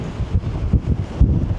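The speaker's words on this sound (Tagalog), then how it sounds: "Kasi napakahangin, ayun oh. Grabe hangin oh." Strong wind buffets the microphone at a clifftop campsite, a steady low roar with gusty surges swelling and easing over a second and a half, no voices.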